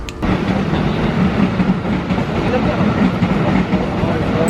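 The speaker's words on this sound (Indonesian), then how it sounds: "kalau lagi makan jangan kaget kalau ada bunyi kereta lewat ya" Continuous loud rumble and clatter of a train rolling past beside an eatery next to the railway tracks, with rhythmic clacking over the rails throughout.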